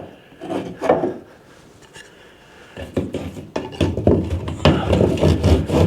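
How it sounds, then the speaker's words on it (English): A piece of timber is worked into a hole in a plasterboard wall during a repair, giving scraping and knocking wood sounds, first in a short burst, then a pause, then a longer run of rubbing and bumping, close and loud. "Your next step will be to put some timber in."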